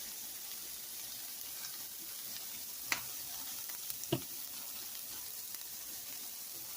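Chorizo with smoked paprika and chili powder frying in a pan gives a faint, steady sizzle, broken by a couple of brief utensil clinks against the pan.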